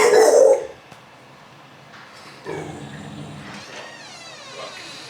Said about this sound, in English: My dog is just going crazy.